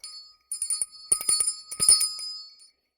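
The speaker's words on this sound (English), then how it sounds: "ring that bell using channel points" A small hand bell rung on a livestream, bright high ringing in a few quick shaken bursts, fairly close and alone without talk.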